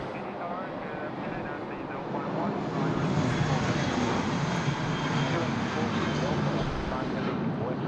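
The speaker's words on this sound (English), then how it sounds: "I've just spotted Air Canada taxiing out from the far side of the airport as well." An Air Canada airliner taxis at Sydney Airport, heard as a steady distant jet engine roar that swells slightly, with people talking over it throughout.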